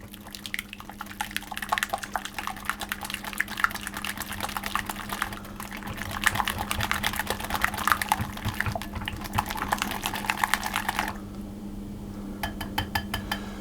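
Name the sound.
whisking egg yolks and almond extract together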